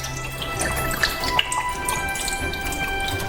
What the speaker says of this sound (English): drain out all the unnecessary fluid